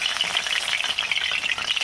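Pitha frying in a wok as it is flipped, a steady close hiss of sizzling oil with faint crackle, constant and moderately loud with no voices.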